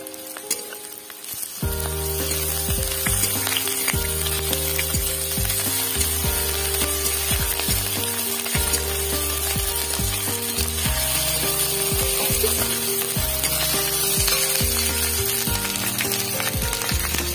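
Onion, garlic, green chilli and ginger paste frying in a pan for a taro and snakehead fish curry, a steady close sizzle running throughout beneath a tonal melodic background, with no speech.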